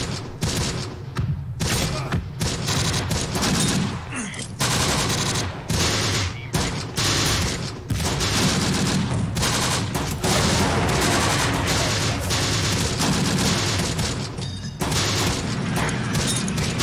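Rapid gunfire crackles through a WWII video game battle, with dense bursts of machine-gun fire and heavy booms layered over a constant roar of combat, loud and continuous throughout.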